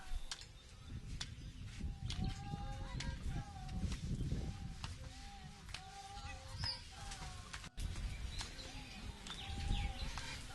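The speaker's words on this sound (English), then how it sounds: "The smaller birds are sparrows," Small birds chirp repeatedly in quick, scattered bursts over a low outdoor rumble, some calls near and others farther off.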